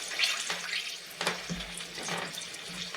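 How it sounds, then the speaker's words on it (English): Lemon juice bubbling and hissing as it boils off in a hot pan alongside steaks, giving a faint, uneven crackle with a few louder spits. "that you hear is just the lemon juice boiling off"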